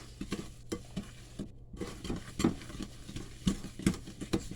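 Cake batter of sugar, spices and butter is mixed by hand in a bowl, giving a rhythmic series of thick, wet scraping strokes at close range, with no voices over it.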